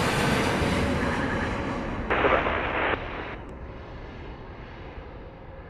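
An airliner at Montego Bay, Jamaica, rolls for takeoff on runway 07, its engines a steady, broad roar that swells briefly and then gradually fades as it moves off into the distance.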